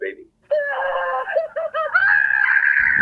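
A caller's recorded scream on a phone-in scream line comes through loud and near, several strained wailing bursts rising into one long sustained shriek, with a brief voice at the start.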